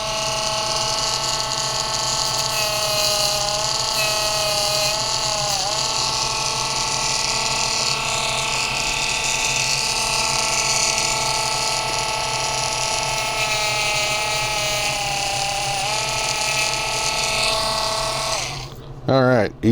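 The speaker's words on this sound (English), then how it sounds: "So we'll Dremel them off." A Dremel rotary tool grinds off small pins during a Charger build, a loud continuous high-pitched whine with slight pitch dips, running steadily for nearly twenty seconds before cutting off abruptly.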